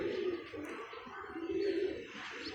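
A teddy pigeon coos softly in a low, rolling rhythm at close range, quiet and steady throughout with faint background noise.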